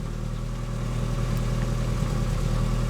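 A Mitsubishi Mighty Max pickup engine idles steadily after a tune-up, a low, even hum holding at a constant level throughout with no talking.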